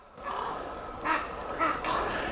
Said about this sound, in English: Sounds like a demented crow. I think the crows and hawks are having a little fight.